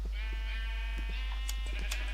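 Sheep in a Minecraft sheep farm bleat repeatedly in overlapping, wavering calls over a steady low machine drone, with a few clicks and taps scattered through.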